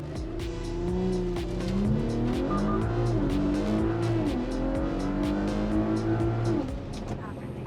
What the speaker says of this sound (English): let's see if we can cut a better 0 to 60 and see if we can do any better